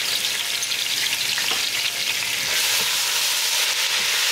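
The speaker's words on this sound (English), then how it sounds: "The oil is heated up, and I'm going to bring a 1 teaspoon cumin. So 1 tablespoon garlic and 1 tablespoon ginger." Cumin, garlic and ginger frying in hot olive oil, giving a steady, loud, close sizzle that holds even throughout with no one talking.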